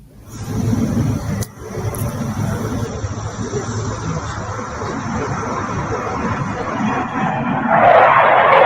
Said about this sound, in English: F-35 jets in tribute to a fallen Polish pilot